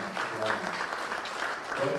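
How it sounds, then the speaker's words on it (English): An audience at a memorial lecture applauds the panelists, with a soft, fairly distant wash of clapping lasting a couple of seconds under a speaking voice. "A big round of applause"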